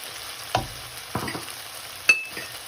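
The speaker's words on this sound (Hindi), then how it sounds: "अनियन को फ्राई करने के बाद फिर मैं इसमें गाजरें और शिमला मिर्च भी ऐड कर दूंगी।" Onions, carrots and bell peppers frying in a pan for chicken chow mein: a few sharp stirring clatters over a low, quiet sizzle, with no talking.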